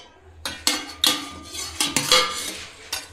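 A spoon clinks and scrapes against a bowl while paneer roll stuffing is mixed, giving a run of sharp, close metallic taps and stirs at an irregular rhythm with no talking.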